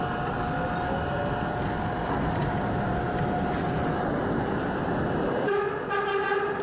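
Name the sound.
NYC subway D train passing and sounding its horn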